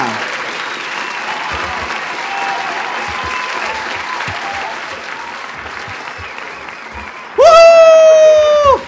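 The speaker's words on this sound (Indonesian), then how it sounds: "sekali lagi tepuk tangan untuk ulang tahun kelima dari Mandiri Capital Indonesia" Sustained applause from an audience at Mandiri Capital Indonesia's fifth-anniversary celebration, a steady dense clapping that fills the room and continues under a loud, bright musical flourish near the end.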